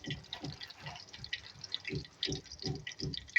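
Water splashing into a pan of spiced potatoes and cabbage in uneven pulses, close and moderately quiet, with light sizzling texture and no talking.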